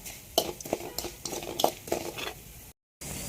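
Spices are stirred and scraped around a hot pan in quick, uneven strokes, with a light sizzle and spoon clinks, under faint talk, cut by a brief drop to silence near the end.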